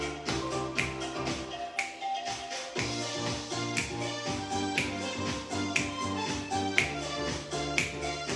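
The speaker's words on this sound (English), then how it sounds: "Snap your fingers." Finger snaps during a cardio workout class, repeated in a steady rhythm roughly once per second, crisp and clear over continuous upbeat backing music.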